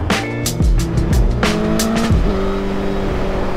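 A 100,000-mile Suzuki GSX-R1000 running on ten-year-old tyres, recorded from the rider's seat, revs hard through rising engine sweeps and clear gear changes, loud and close over rushing wind.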